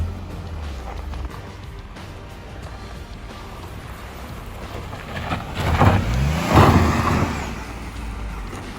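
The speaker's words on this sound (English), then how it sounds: "It's very hard to get the traction here, but Nissan MAGNITE aced it." A Nissan Magnite SUV climbs a small gravel uphill off-road, its engine droning steadily and then rising in a strained rev as it pushes up, with gravel crunch underneath, heard without talk.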